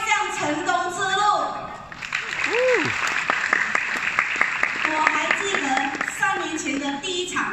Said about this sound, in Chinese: 给大家一个热烈掌声。